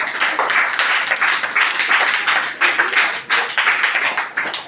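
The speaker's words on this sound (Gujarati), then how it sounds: "તાળી પાડો જોરદાર" Brisk, loud clapping from a group of schoolchildren in a primary school classroom, a close, energetic burst of many hands that keeps going without pause.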